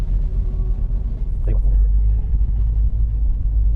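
A Peugeot 208 pulls away with a low, steady engine and road rumble heard from inside the car, with people talking over it.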